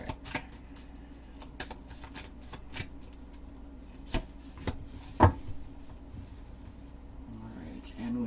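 Tarot cards are shuffled and drawn from a deck, giving a run of crisp riffling bursts and sharp flicks at irregular intervals, close and fairly quiet, with soft handling noises between.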